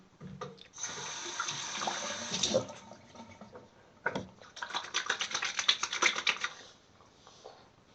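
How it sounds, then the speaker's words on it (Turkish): Tap water runs into a sink during face washing with soap, a steady broadband rush for several seconds, a brief pause, then a second longer burst with splashing, close and moderately loud, without talk. "yüzümüzü sabunlu şöyle yıkayacağız suyla"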